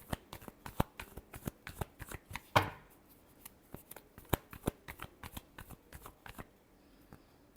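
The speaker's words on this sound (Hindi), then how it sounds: "Last shuffle." Tarot cards are shuffled in a rapid run of crisp riffling flicks, with one longer ruffling burst partway through, close and fairly quiet with no voices.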